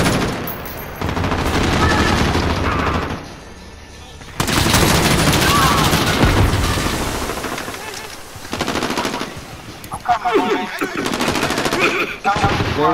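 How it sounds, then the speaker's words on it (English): Rapid automatic gunfire in the Call of Duty: Modern Warfare video game, with sustained loud bursts and brief pauses, mixed with voices talking over the shooting. "Who's shooting, bro?"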